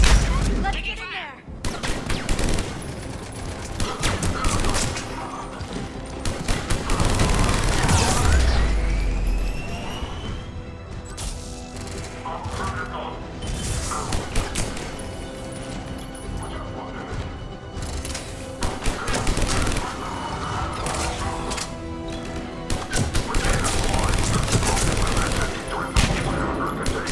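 Heavy gunfire rattles around a Cerberus checkpoint in Mass Effect 3, dense bursts and shots with crashes and mechanical clatter running throughout, loud and continuous with occasional voices mixed in.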